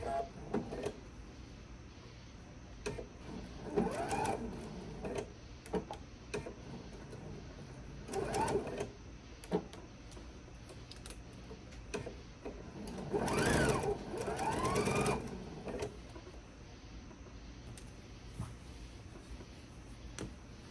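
A sewing machine stitches a seam on a reversible bag in stop-and-start bursts, each run whirring loudly up close before pausing, with quieter fabric handling in the gaps.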